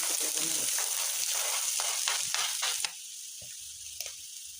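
Thinly sliced onions fry in a pan with a loud, dense sizzle that drops abruptly to a quieter crackle partway through, with a couple of soft stirring knocks.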